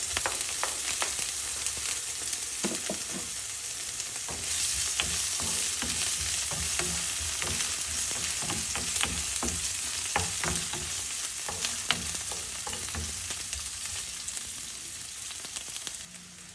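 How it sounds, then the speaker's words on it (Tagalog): Chopped onions sautéing in a pan with garlic already browned, for a chopsuey, giving a steady close sizzle with scattered pops and occasional stirring scrapes throughout, no voices. "Kapag lumabas na yung aroma ng bawang at medyo nagba-brown-brown na siya, isusunod na natin ang ating sibuyas."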